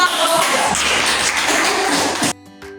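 Classmates clap together in a school classroom, a dense burst of many hands lasting a couple of seconds before cutting off abruptly to quiet room tone.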